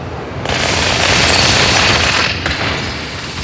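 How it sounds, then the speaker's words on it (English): Needler and SMG fire in Halo 2, a loud sustained burst of rapid automatic gunfire that rattles continuously for several seconds, briefly dipping before resuming, with no talking. "The right trigger fires my needler, my SMG, and the left fires my needler"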